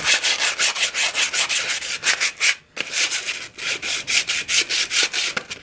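Rust is scrubbed by hand off a motorcycle exhaust during a restoration, giving a steady series of rhythmic rubbing strokes, close and moderately loud, with one brief pause midway.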